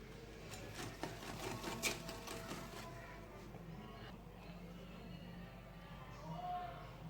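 An electric hand mixer whips egg whites and sugar into a foam for a plain sponge cake, with a steady, continuous whirring motor buzz close by throughout.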